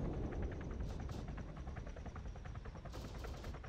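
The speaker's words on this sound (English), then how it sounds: "Choppers." Military helicopters thunder through a combat game battle, a dense continuous rotor rumble mixed with bursts of gunfire and crackling shots, loud and steady throughout without talk.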